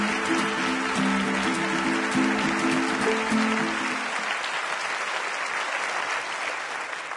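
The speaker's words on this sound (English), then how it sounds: "let's give it up for Dr. Ramzi Musallam." An audience claps loudly and steadily to welcome a speaker onstage at a talk, dense applause that holds and then thins slightly toward the end, with some cheering early on.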